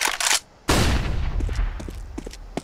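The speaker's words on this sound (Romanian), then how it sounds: "Throwing flashbang." A flashbang grenade thrown in a video game goes off with a sharp, loud burst after a brief gunfire-like crack, then rings out and fades over the next two seconds.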